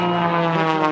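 An MX2 aerobatic airplane performs at the Boundary Bay airshow, its propeller engine giving a loud, steady, buzzing drone that stays close and constant for about a second.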